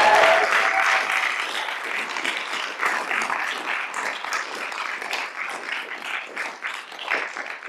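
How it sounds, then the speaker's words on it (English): Sustained applause from a sizable audience, a dense, even wash of clapping that holds steady throughout. "A round of applause for Professor Modupe Akinola."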